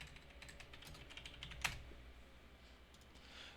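Quiet keystrokes on a computer keyboard tap out a short burst of typing, with one sharper key press standing out midway against a soft background hum.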